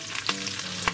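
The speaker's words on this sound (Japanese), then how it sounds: "ナスとチョリソーを絡めて、で火はずっと中火ね" Chorizo and eggplant frying in oil over medium heat, seasoned with salt and pepper, a brief close sizzle with two sharp stirring scrapes, no voices.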